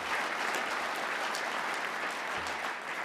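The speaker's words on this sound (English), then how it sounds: "Yeah, that deserves applause" Steady, dense clapping from an audience at a chairman's installation awards event fills the space continuously and evenly throughout.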